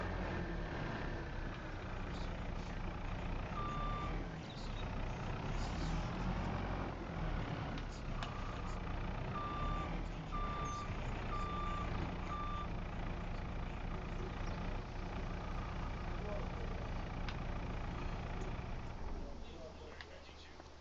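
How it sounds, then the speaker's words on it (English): A truck pulls away at a civil works site with its reversing alarm beeping in evenly spaced pulses over a continuous diesel engine rumble. The engine stays loud throughout, then drops off near the end. "We'll send this truck on its way"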